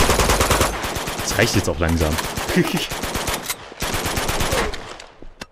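Rapid automatic gunfire from the video game Uncharted 2: Among Thieves, dense bursts at the start and again midway, loud and close, with someone talking briefly between the volleys.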